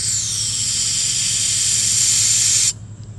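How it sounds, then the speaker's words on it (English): A loud, steady hiss of refrigerant purging air out of a yellow gauge hose on an AC unit runs continuously for nearly three seconds, then cuts off abruptly. "So we have our refrigerant pushing the air into this yellow hose. And we're going to purge our air out of this hose."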